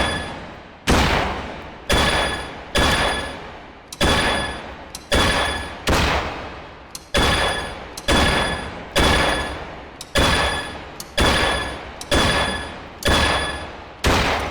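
A dry-fire shooting game fires a rapid series of about fifteen sharp, loud simulated gunshots, each with a short decaying tail, spaced roughly a second apart.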